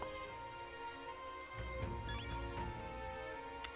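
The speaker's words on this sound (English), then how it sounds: "Oh, it's raining." Rain falling in the video game Metaphor: ReFantazio, a soft continuous patter of drops on surfaces, fairly quiet and steady, with a brief brighter tinkling burst partway through and no talking.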